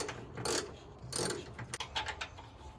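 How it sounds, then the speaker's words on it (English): Ratcheting tool clicks as a bolt is fitted on the fender apron of a Monte Carlo during a custom bar install, two close bursts of mechanical rattle followed by several lighter ticks, no talking. "I'm going to put one bolt back in."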